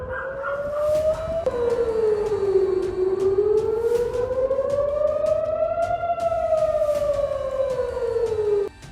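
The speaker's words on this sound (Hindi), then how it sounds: "सेंट्रल इजराइल में कई बार सायरन अलर्ट सुनाई दिए" A wailing air raid siren rising and falling in long, slow sweeps, loud and continuous throughout with no voices, sounding in central Israel during the Iran–Israel war.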